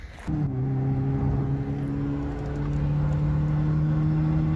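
An engine catches and settles into a loud, steady drone from an old car being pushed hard in third gear, holding a constant pitch close by with no voices.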